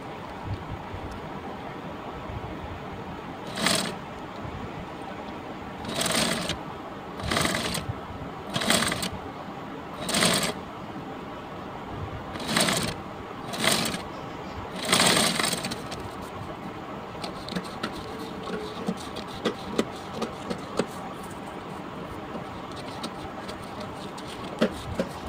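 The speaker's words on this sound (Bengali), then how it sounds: "এখন আমি সেলোয়ারের কাপড়ে সেলাই করে নেব" A sewing machine stitches salwar fabric in several short bursts, each a few seconds long and separated by pauses, followed by quieter handling noise near the end.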